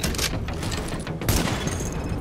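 Rapid gunfire in the video game Tom Clancy's The Division, a dense continuous burst of shots with a sharper volley partway through, loud and close with no talking.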